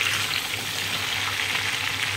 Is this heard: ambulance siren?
no